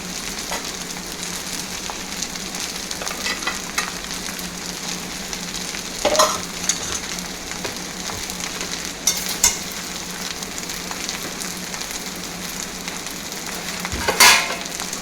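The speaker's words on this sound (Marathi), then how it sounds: "मोठ्या फ्लेमवरती छान टॉस करून झाल्यावर त्याच्यामध्ये हे चिकनचे पीसेस टाकायचे जे आपण फ्राय करून घेतले" Fried chicken pieces are tossed in a pan over a high flame, keeping up a steady sizzle and hiss with a few louder stirring clatters, close and with no speech.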